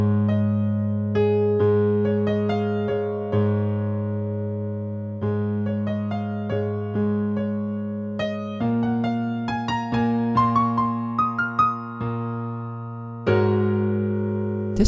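Piano plays a simplified intro of a song, sustained low chords under a single melody line of top notes, unhurried and clear, close and alone with no voices.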